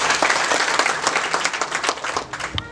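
A church congregation claps and applauds together in a dense, steady burst that fills the room, with faint voices mixed in near the end.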